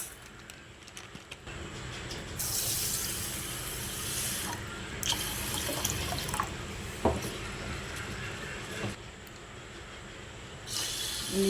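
Sago pearls are swirled and rinsed in water in a kitchen, giving a continuous wet sloshing and rustling with a few sharper clinks and splashes, close to the microphone and without speech.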